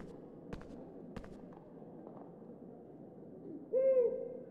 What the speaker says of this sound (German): Mein Uhu ist in der Eulerei, aber er ist ziemlich nervös.